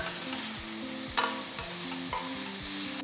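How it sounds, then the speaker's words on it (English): Two large finely chopped onions sautéing in about two tablespoons of oil, a constant sizzle with a few stirring scrapes and a low tonal hum underneath, close and even, no speech. "Saute the onions till they're a nice golden brown color."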